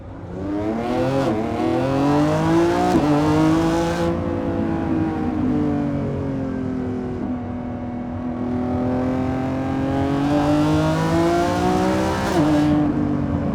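A 2025 Lamborghini Revuelto engine revs loud and high on a canyon drive, rising through the gears in long climbing wails with brief dips at each shift, heard close and continuous from inside the car.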